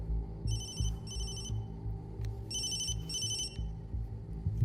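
An electronic phone ringtone sounds in two pairs of short repeated bursts, moderately loud over a steady low background hum.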